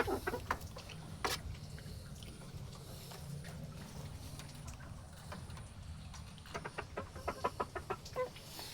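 Two Sasso chickens, one yellow and one white, cluck and call in short bursts close by, with quicker clusters of clucks toward the end over a low steady background hum.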